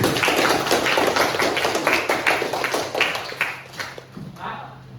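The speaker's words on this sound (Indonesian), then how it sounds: "Tepuk tangan semuanya." Classroom group clapping in a fiqh lesson, a quick run of sharp, uneven claps that thin out and fade over a few seconds, fairly close.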